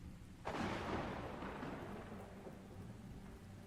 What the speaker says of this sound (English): It's raining underwater.